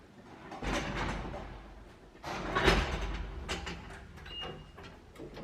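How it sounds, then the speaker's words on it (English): Lift doors slide open, a soft rumbling glide with a couple of swells and a faint tone near the end, heard up close with no talking. "Doors opening."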